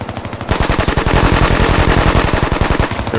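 Machine guns firing during weapons squad training, a loud rapid burst of closely spaced shots in a steady rattling rhythm, sustained for about three seconds with a brief lead-in, no voices.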